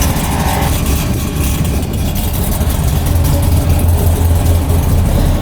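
C6 Corvette Z06 with the naturally aspirated LS7 V8 running on a dyno, a loud continuous low engine drone with a deep steady rumble that swells slightly toward the end.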